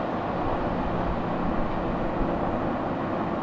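A CSX freight train passes at night, a steady loud broadband rumble and roar of rolling cars with no breaks, close and continuous throughout.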